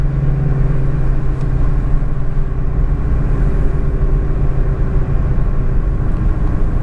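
A Ford Mustang GT350 with a resonator delete drones loudly and steadily, a deep exhaust rumble holding near 2,000 to 3,000 RPM throughout with no talking over it.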